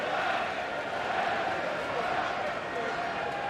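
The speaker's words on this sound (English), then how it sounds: "And the crowd responding to." Rugby crowd at an Edinburgh versus Leinster match, a sustained distant roar and murmur of spectators swelling slightly, steady throughout under a commentator's voice.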